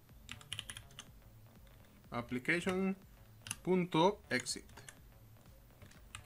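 Computer keyboard keys clicking in quick bursts as C# code is typed, near and fairly faint, with someone speaking in between and over the typing.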